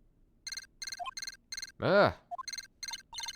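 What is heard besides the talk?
transceiver beeping in Phoenix Wright: Ace Attorney video game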